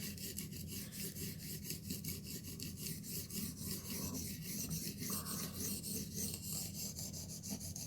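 A steel knife blade grates rhythmically against a sharpening stone as the burr folds over, quiet repeated gritty strokes rasping back and forth close by, with no voices.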